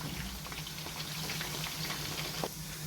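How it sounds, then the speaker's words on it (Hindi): Stuffed karela, bitter gourd filled with keema, fries in hot oil with a steady, even sizzle and bubbling that carries on unbroken from start to finish. "व्यूअर्स जी देखें मैंने मज़ीद 5 मिनट इनको फ्राई किया है।"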